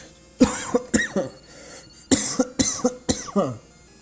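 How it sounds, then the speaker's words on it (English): Two bursts of harsh coughing, each a quick run of several coughs, close and fairly loud, separated by a short pause. "I just had to cough."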